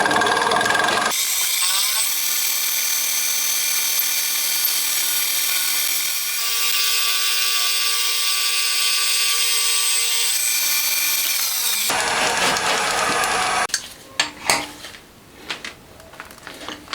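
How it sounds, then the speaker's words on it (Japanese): Metal-cutting machine tool shaves a freshly cast cylinder head for a handmade 125cc four-cylinder, 16-valve engine, a loud steady high-pitched whine with ringing tones that shift pitch midway, stopping abruptly before clattering handling noises close by. "何回かヘッドの位置を前後に変えながら目標寸法まで削っていきます。"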